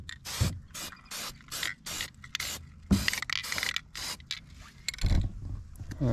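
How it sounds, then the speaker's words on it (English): A spray can fires short repeated bursts onto a Toro TimeCutter zero-turn mower rim set in a cardboard box, roughly a dozen hissing blasts separated by brief pauses, close and loud. "I got the rim out here in a cardboard box to spray paint it."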